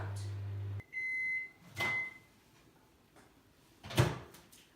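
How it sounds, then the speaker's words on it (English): A microwave oven warming citrus fruit hums steadily, then stops, followed by a short beep and the clunks of its door being opened and handled, with a brief spoken word. "So we take it out of the microwave"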